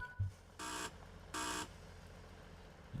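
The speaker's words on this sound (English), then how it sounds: "There's the buzzer." Door-lock buzzer on a train in Train Sim World, Skyhook Cargo Line: two loud, steady harmonic buzzes of about a third of a second each, separated by a short gap, over a low cab rumble.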